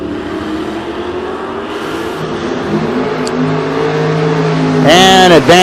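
At a drag race, a 1989 Ford Ranger nicknamed the Danger Ranger lines up against a Mustang. Engines rumble and build under an announcer's voice, ending in a loud surge of revving near the finish.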